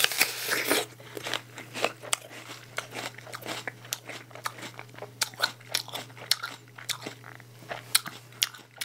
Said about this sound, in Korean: 이렇게 생망고 처음 먹어보거든요?